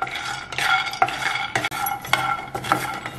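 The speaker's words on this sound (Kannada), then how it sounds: "ಇದನ್ನು ಸ್ವಲ್ಪ ಸಣ್ಣ ಉರಿನಲ್ಲೇ ಹುರ್ಕೊಳ್ಳೋಣ." Almonds, peanuts and cashews are stirred in a pan over a low flame, giving repeated scraping and rattling strokes with a faint sizzle, close and steady without talk.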